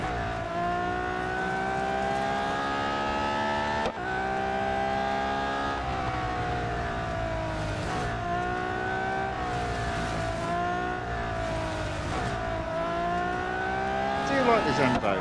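A Zenvo race car engine drones and revs continuously in the video game Real Racing 3, loud and steady with shifting pitch over fifteen seconds and a brief dip partway through, with a voice talking over it.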